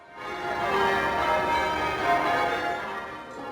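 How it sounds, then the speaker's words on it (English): Dense, sustained ringing of church bells in Charleston, South Carolina, on a Sunday morning, overlapping tones, steady and fairly loud throughout, no voices. "church bells ringing out across Charleston, South Carolina"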